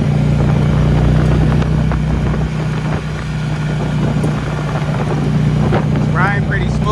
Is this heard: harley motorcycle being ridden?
yes